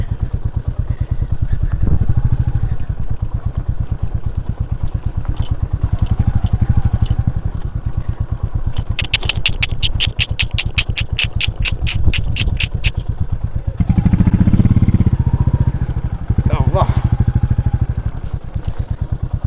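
A motorcycle engine idles in a hill village near Kodaikanal, India, with a steady, rapid low thumping, close by and loud, with a brief rattling clatter partway through.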